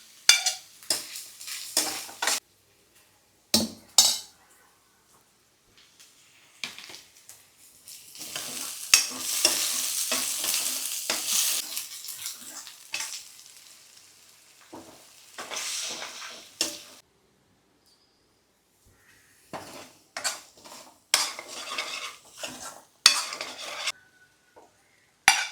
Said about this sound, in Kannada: ಈಗ ಕ್ಯಾಪ್ಸಿಕಮ್ ಹಾಕ್ಕೊಳ್ತಿದ್ದೀನಿ, ಗಾರ್ಲಿಕ್ ಹಾಕ್ಕೊಳ್ತಾ ಇದ್ದೀನಿ